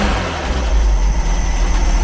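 A rebuilt 1600 dual-port engine in a 1971 VW Beetle, freshly broken in, runs at a steady, loud idle with a low, rumbling drone and no voices.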